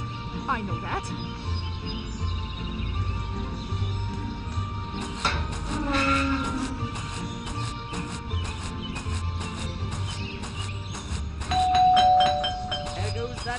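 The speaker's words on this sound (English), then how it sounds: "There goes that stupid bell again." A doorbell rings repeatedly in Scary Teacher 3D, a video game, chiming in short bursts over steady background game music with other electronic effects and voices.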